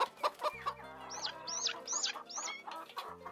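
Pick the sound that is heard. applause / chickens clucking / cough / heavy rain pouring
chickens clucking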